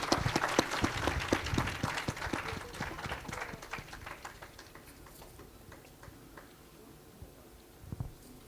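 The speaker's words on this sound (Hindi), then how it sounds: "कृपया जोरदार तालियां बजाकर इनका स्वागत करें।" An audience at a fourth-anniversary event applauds, a dense burst of clapping that is loudest at the start and gradually thins to scattered claps, with one last small cluster near the end.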